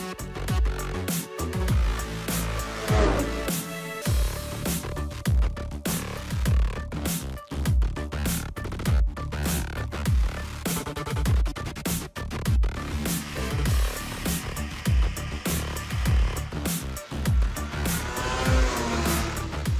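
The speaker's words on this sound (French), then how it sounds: "Je viens tout juste de faire l'essai de la ZR 8000 RR d'Arctic Cat, la motoneige pour les amateurs de grosses bosses et de sentiers accidentés." An Arctic Cat ZR 8000 RR snowmobile with an 800 engine, ridden on rough, bumpy trails, roars loud and close with repeated revving surges and dips throughout.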